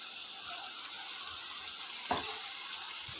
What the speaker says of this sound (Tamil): இப்போ இந்த அரைச்ச பேஸ்ட்டை போட்டுடலாம்.